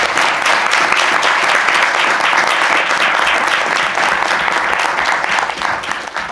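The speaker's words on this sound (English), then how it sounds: "let's give them all a round of applause" Applause from an audience at a school board of education meeting honoring participating students, dense and steady clapping throughout, loud and close, with no talking over it.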